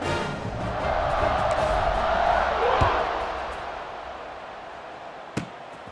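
A stadium crowd cheers in College Football 26 during a kickoff after a long touchdown pass, a broad swelling roar that peaks midway and fades, with a sharp thump near the end.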